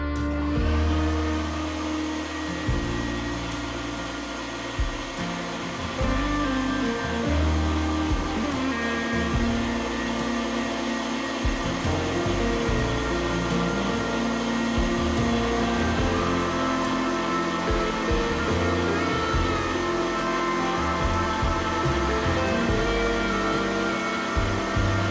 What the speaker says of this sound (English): We're just going to run this through nicely, and for the final fine grind.